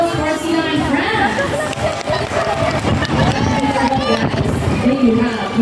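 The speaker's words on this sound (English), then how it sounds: "Ocean, how about a round of applause for senior friends?" A crowd applauds steadily at a bird and sea lion show at Manila Ocean Park, a dense, continuous wash of clapping under an amplified announcer's voice.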